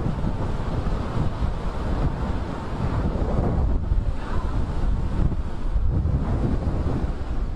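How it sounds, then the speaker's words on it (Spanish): Hurricane wind and surf at Biscayne Bay, a loud, constant roaring blast with gusty surges and heavy wind buffeting on the microphone throughout. "vean lo que es este huracán y nos vamos a trasladar hacia la bahía de Biscayne"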